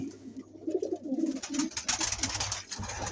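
Ringed pigeons coo in low, throaty bursts close by, overlapping with fluttering and rustling in a loft, without speech.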